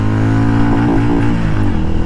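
A Hero Mavrick 440 motorcycle accelerates hard on the road. The close, loud engine note rises through the revs, dips briefly at a gear change, then climbs again.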